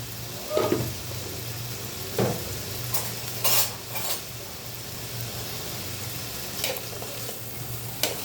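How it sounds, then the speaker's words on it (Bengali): Pointed gourd and potatoes fry in a pan with a steady, soft sizzle, broken by several sharp scraping stirs of a spatula. "আমি এটা হালকা ভাজি করব লাল লাল করবো"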